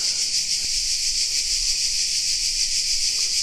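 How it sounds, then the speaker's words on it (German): Loud cicadas in a Croatian botanical garden with olive and fig trees, a constant dense high-pitched buzzing drone that fills the air steadily and alone, with no voices. "Es ist so laut hier von den Zikaden."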